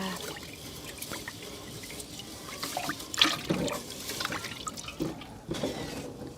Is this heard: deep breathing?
no